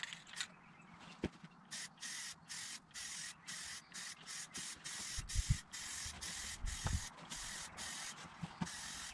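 Rust-Oleum spray paint hisses onto an AR-15 rifle in desert sand color, coming as a rapid series of short, even bursts with brief gaps between them, close and moderately loud, with no talking.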